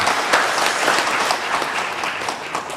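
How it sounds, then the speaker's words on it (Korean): Church congregation applauding after a choir solo during a Korean Methodist worship service, a dense steady wash of many hands clapping at moderate loudness throughout, with no speech. "하나님께 영광을 올려드리는 귀한 박수 한번 보내시기 바랍니다."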